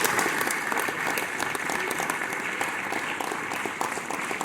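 Sustained clapping from a roomful of diners at an evening event honouring a pilot and his plane, an even, crowded patter of many hands heard at moderate distance, alone without speech.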